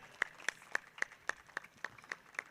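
Sparse, evenly spaced claps, about ten sharp hits, fairly faint, at a cricket prize ceremony for a Thane Premier League trophy.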